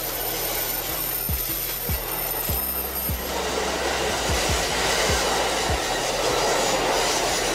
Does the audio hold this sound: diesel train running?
yes